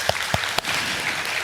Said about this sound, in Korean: 수고하신 여러분들에게 우리 모두 박수 한번 보내겠습니다